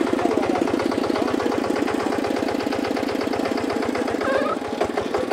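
A small micro tractor engine runs steadily at idle on a farm, its fast, even chugging close and continuous throughout with no voices.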